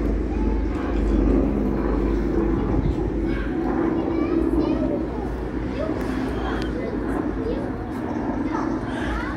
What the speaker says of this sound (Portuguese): olha um aviãozinho